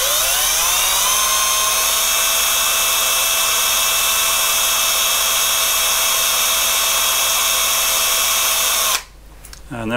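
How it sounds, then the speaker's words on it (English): A power drill winding paper tape for a Trend 612 paper tape punch whines steadily for about nine seconds, a loud, even high-pitched motor tone, then cuts off abruptly. "you just power up the drill and wind the tape"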